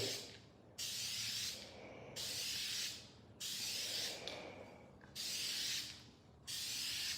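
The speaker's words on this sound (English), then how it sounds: "We're going to go for a real light mist coat of this royal blue." Spray paint can laying a light mist coat of royal blue on classic motorcycle parts, five steady hissing bursts of about a second each, separated by short pauses, close and fairly loud.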